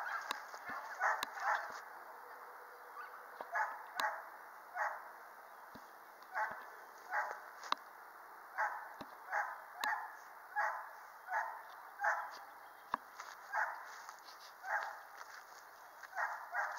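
A nine-month-old tracking dog barks and whimpers in a steady run of short, moderately distant yips and whines, repeating every second or so without talk over them.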